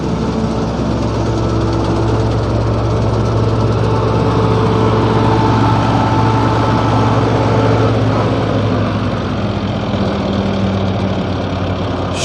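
A tractor engine runs steadily in a wheat field during harvest, a loud, close, unbroken droning hum with a knocking mechanical edge and no voices over it.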